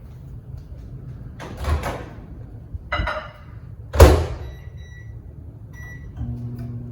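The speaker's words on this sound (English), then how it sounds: "This is going to go in the microwave to melt down." A kitchen microwave oven used to melt butter: a couple of door thunks and clunks over a low steady hum, followed by a few faint electronic beeps, with no speech.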